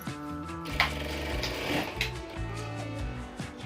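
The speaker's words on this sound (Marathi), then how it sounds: "स्ट्रेच होऊ नये म्हणून मी त्याच्यावर एक कच्ची टिप मारत आहे" A sewing machine runs a basting stitch on stretch fabric, a close, steady mechanical whir with a few short clicks and pauses, and no voice.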